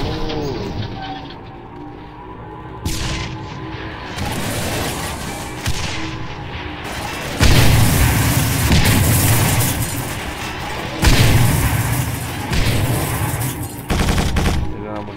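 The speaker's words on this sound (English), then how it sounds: "Oh, we're gonna be using a tank now." Heavy tank cannon and gunfire in the video game Quake 4: loud repeated booming blasts and bursts of rapid fire, close and dense, with rumbling between shots and no talk.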